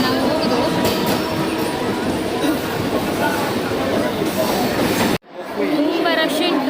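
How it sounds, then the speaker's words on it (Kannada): A crowded Mumbai local train rolls out from Bandra station with a loud, constant rumble and rattle of the carriages. People talk throughout the ride, and a brief dropout breaks the noise near the end. "ಈಗ ನಾವು ಟ್ರೈನ್ ಹತ್ತಿದ್ವಿ, ಬರುವಾಗಲೊಂದು ಟ್ರೈನ್ ಸಿಕ್ತು ನಮಗೆ"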